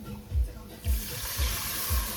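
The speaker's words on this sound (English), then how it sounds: "let me throw the water in now" Water is poured into a pot of curry cooking on the stove, giving a rushing, sizzling wash over steady low thumps that recur about every half second.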